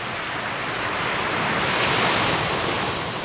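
Sea waves wash onto the shore in a loud, continuous roar of surf and spray that swells slightly midway, with no voices over it.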